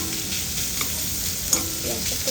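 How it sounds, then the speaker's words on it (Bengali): Onions sizzling and being stirred in a frying pan on a home stove, a steady close hiss with faint scraping, no voices. "একটু ভাজা হচ্ছে"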